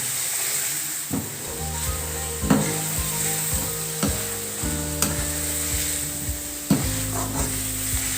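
Kaleji (liver) is stirred in a frying pan, a loud continuous sizzle broken by sharp scrapes and knocks of the spoon against the pan every second or two, no voices.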